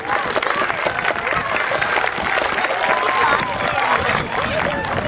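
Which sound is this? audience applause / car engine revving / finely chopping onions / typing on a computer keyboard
audience applause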